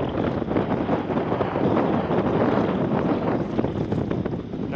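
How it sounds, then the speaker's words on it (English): Strong wind roars and buffets loudly and continuously, a rough, gusty rush close to the microphone with no voices. "it is still very windy here"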